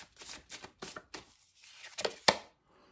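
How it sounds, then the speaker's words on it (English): Moonology oracle cards being shuffled by hand, a run of quick soft riffling bursts in a steady rhythm, then a sharper snap as a card is drawn, close and fairly quiet with no talk. "let's pick an oracle card"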